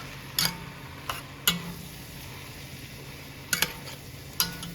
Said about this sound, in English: sausage and veggies. Give that a quick stir.